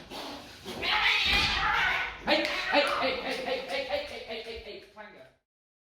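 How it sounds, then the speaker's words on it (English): Two house cats fight, yowling and caterwauling in loud, drawn-out rising and falling cries that overlap, then cut off abruptly near the end, with a voice shouting briefly amid the noise. "Cat fight!"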